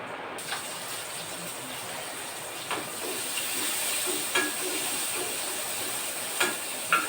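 A steady hiss of hot oil with faint crackles and occasional small pops, as mustard seeds sizzle in a pan.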